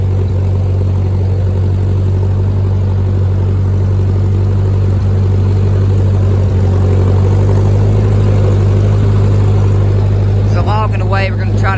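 A 1946 Ford 2N tractor engine running while the tractor drives along in first gear, a loud steady low chugging drone throughout, with a brief voice near the end.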